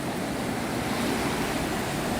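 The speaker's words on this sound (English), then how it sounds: "those waves are more intense than normal." Ocean surf rolls onto the beach at Anna Maria Island at sunset, a steady broadband wash of waves with some wind, continuous and fairly close, with no one speaking.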